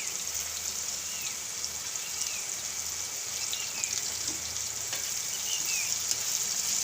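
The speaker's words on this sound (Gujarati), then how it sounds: "હવે આ બેને આપણે પાછું ઘડીક વાર તેલમાં ફ્રાય થવા દેવાનું" Ridge gourd and potato pieces cook in oil with turmeric and salt, giving a soft, even hiss that runs without a break, faint and close.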